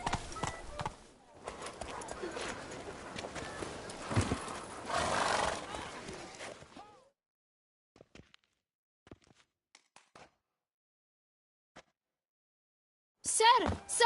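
Roach, a horse in The Witcher 3: Blood and Wine, gallops with rapid hoofbeats and neighs for about seven seconds before near silence with a few faint knocks, and then a brief burst of noise at the end.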